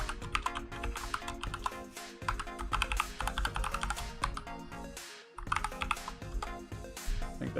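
Password being typed on a computer keyboard, a quick close run of light clicking keystrokes with a couple of brief pauses, no talking.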